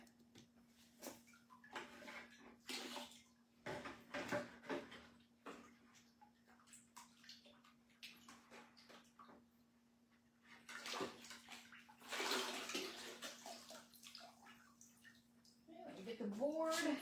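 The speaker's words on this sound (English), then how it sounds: "Let me get it in the water," A marbled paper item is rinsed off in a tub of water during water marbling, with intermittent splashing and sloshing bursts, quiet stretches between, and faint background sounds.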